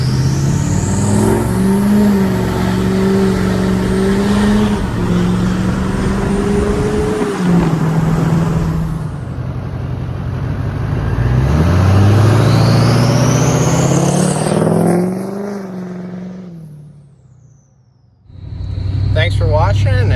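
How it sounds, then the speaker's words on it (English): A Chevy/GMC LBZ Duramax diesel truck fitted with a Yikatoo straight pipe exhaust, roaring loudly as it accelerates with rising and falling revs and gear changes, heavy and close, fading briefly near the end before returning. "The thing came quick and it was easy to install, and the roar is just fantastic"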